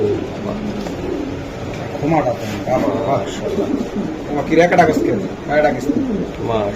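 Racing pigeons of the BRPFC/BRPEL club coo in repeated soft throaty bursts close to the microphone, mixed with steady chatter from people nearby.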